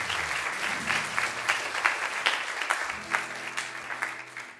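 An audience claps at a live indie rock concert in Carnide, a dense sustained round of applause that is fairly close and begins to thin toward the end.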